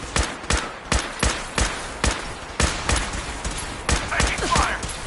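Gunfire in Fallout 4: a steady series of loud single shots roughly every half second, each a sharp crack with a booming tail, over faint background combat noise.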